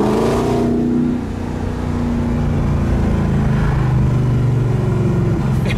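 A Dutch-built supercar's engine roars loudly up close, its deep revving tone holding steady, dipping briefly and then climbing again in pitch as it accelerates, with no talking over it.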